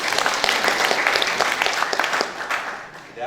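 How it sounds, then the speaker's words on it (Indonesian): Applause for the Sunday school children during a Batak wedding blessing at HKI Motung church, a dense, steady patter of many hands with some scattered sharper claps, fairly close and continuous for the whole stretch. "Tepuk tangan untuk sekolah minggu."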